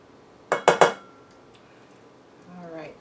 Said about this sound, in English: we're going to scoop in the mayonnaise